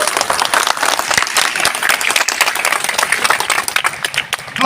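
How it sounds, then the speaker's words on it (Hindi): A large audience claps loudly and steadily throughout a public speech by Dr. Sachidanand Maurya, with dense, sustained applause that swells slightly at the end. "एक बार जोरदार ताली लगाइए, बताऊं।"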